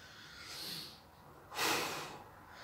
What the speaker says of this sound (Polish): Oddychamy.